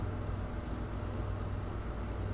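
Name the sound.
truck engine pulling uphill in American Truck Simulator video game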